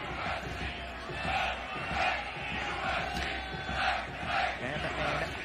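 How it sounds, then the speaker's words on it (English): Stadium crowd at an MLS soccer match, New York Red Bulls against LA Galaxy in 2007, roaring and chanting in steady swelling waves, a dense wash of voices with recurring surges and no clear talk over it. "you can hear the crowd trying to play their part."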